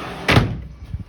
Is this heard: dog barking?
no